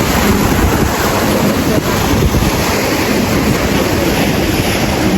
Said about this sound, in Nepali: तल पानी जहाज चलिरहेको छ